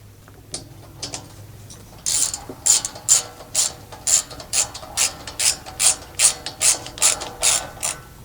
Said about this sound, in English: I'm just going to snug all 4 corners down evenly before I even try to tighten anything